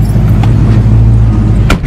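Ford Foxbody Mustang engine idling nearby with a deep, steady low rumble throughout, plus a couple of brief light clicks or rattles over the drone.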